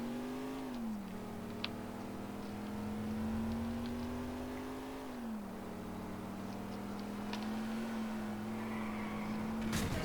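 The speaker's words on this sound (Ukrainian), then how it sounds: "Ну, поїду я, напевно, на цій самій машині далі." A car engine in Grand Theft Auto IV drones continuously as the vehicle is driven, its pitch rising and dipping with shifts and acceleration, steady and fairly loud with no talk over it.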